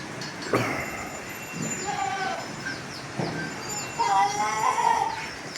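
Goats and lambs on a farm in Vasundi, Parner taluka, Ahilyanagar, bleat repeatedly at close range, with several overlapping calls over a continuous rustling farmyard background.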